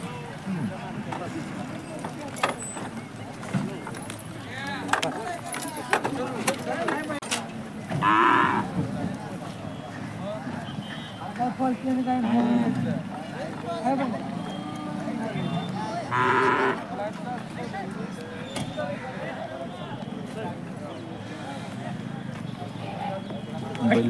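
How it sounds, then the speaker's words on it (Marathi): Bulls and young racing bullocks at the Peth Vadgaon cattle market moo in several loud, drawn-out calls amid a busy crowd, with people talking throughout and hooves shuffling nearby. "बैल सोडवून दाखवत आहे."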